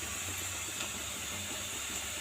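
Steady, loud sizzling hiss of ridge gourd frying hard in a hot pan on high flame, continuous with no talking.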